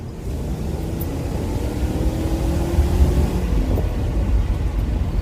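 A BMW E39 540i with the M62 V8 engine pulls uphill in second gear at about 3,500 RPM, giving a steady, loud, droning engine and road roar that builds slightly throughout.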